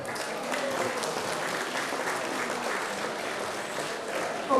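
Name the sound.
audience applauding at Martinovanje festival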